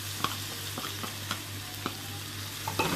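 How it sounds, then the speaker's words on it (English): Carrot pieces stirred in olive oil in a pan, with a steady soft sizzle under repeated scrapes and clinks of the spoon at irregular intervals. "I'm gonna keep stirring about 10 minutes."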